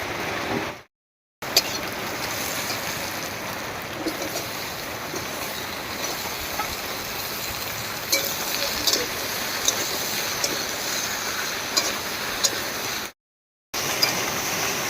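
Steady rain falls in a broad, even wash of noise with occasional small taps, continuous and moderately loud apart from two brief silent gaps.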